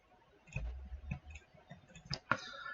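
Several quick, light clicks come one after another in a quiet room, sparse and close, like a computer mouse being pressed.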